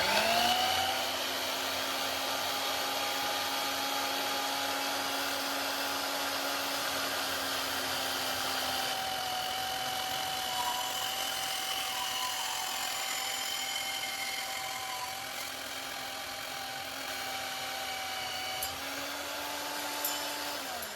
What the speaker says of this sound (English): So I went to Harbor Freight and I got one of these little portable band saws